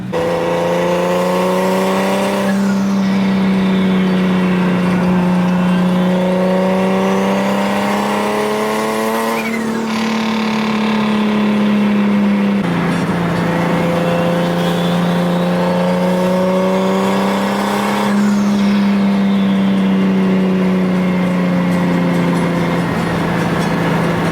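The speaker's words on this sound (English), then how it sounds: "Yep, that's my exhaust. That is literally the exhaust." A loud, droning exhaust from a big-turbo Nissan 350Z revs steadily up and down at a car meet, the engine pitch rising and falling in long sweeps, close and continuous throughout.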